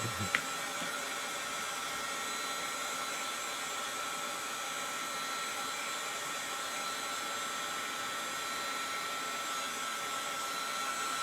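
A hair dryer blows steadily at close range to dry a chenille yarn Christmas tree craft, a constant whooshing roar with a small click at the start and no talking.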